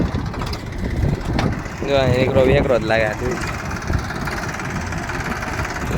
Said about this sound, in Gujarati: આ જો અત્યારે કરે છે એ ટ્રેક્ટર જો એકદમ સ્મૂથ હાલે છે ભાઈ ટ્રેક્ટર છે મહિન્દ્રાનું ટ્રેક્ટર છે